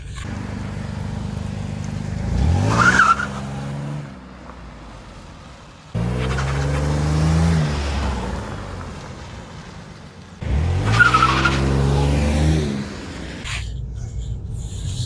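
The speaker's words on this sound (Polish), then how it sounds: "Mruczy sobie ten silnik." A Chrysler 300M 3.5 L V6 engine rumbles low and steady while driving, swelling in three rising surges as it accelerates, with quieter idling between.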